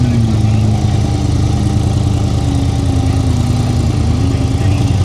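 A Can-Am off-road vehicle's engine runs close by at a steady mid-pitched drone with slight wavering in tone, loud and continuous, near a rock wall climb at Cliffhanger 2025 Highmount.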